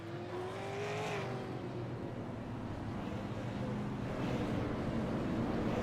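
Race cars run at full throttle on an Oxford track, a steady droning engine roar with one rising whine early on, fairly close and continuous, with faint crowd or announcer noise underneath.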